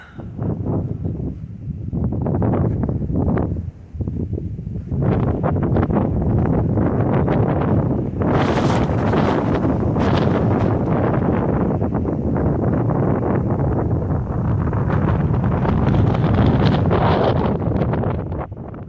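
Strong wind on the Bald Knob mountain summit, loud continuous buffeting and roaring across the microphone in surging gusts, close and harsh throughout with no voices.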